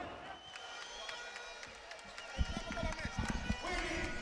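A crowd breaks into applause midway, a dense patter of clapping swelling under a commentator's voice.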